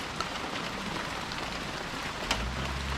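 Steady rain falls outdoors during a storm, a dense even hiss of drops with a couple of sharper taps and a low rumble near the end, heard alone with no talking.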